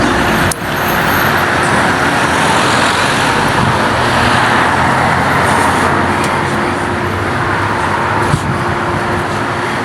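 Road traffic and buses at a bus stop in Ireland make a loud, continuous roadside rumble, with a single sharp knock near the start.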